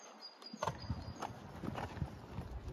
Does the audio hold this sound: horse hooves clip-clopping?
yes